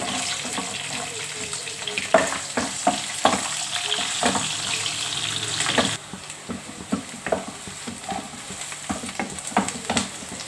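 Onion pieces with crushed garlic and curry leaves fry in a pan, a steady sizzle broken by repeated utensil scrapes and clacks, dropping slightly quieter partway through.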